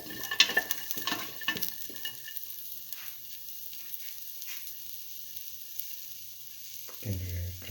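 Shallots sautéing in a hot pan give a soft, steady sizzle with a few louder stirring scrapes early on, fairly close and quiet, ending in a brief low clatter.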